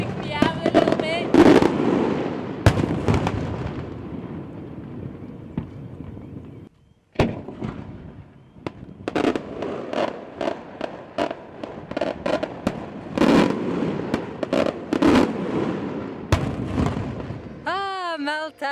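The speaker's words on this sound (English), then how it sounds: "all the smokes from those fireworks are" Fireworks burst repeatedly over Malta in irregular volleys of loud booms and crackles, some near and some distant, with a brief lull partway through.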